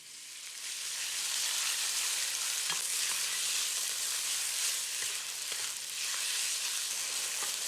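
Beef sizzles steadily in hot oil in a pan, a loud continuous hiss with occasional faint crackles and no talking.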